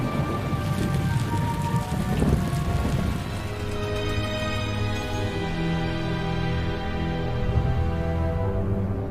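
Heavy rain pours steadily outside a dark church during a wedding in the film Dark Spell, a dense, continuous wash close by with a low rumble underneath, running without a break and with no voices.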